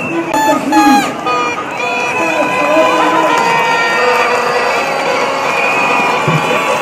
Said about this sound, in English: There are a lot of cheers from the crowd.